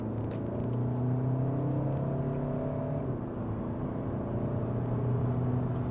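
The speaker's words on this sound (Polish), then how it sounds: "Wyraźny warkot diesla był słyszalny" A 2018 Volkswagen Arteon 2.0 TDI diesel engine with DSG gearbox drones and revs steadily as the car accelerates, a low continuous rumble heard from inside with a slight dip midway.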